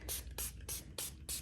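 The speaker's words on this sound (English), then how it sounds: "So I'm just gonna spray a little of this on my pillowcases." Spray bottle misting pillowcases, five quick, evenly spaced hissing squirts, close but soft.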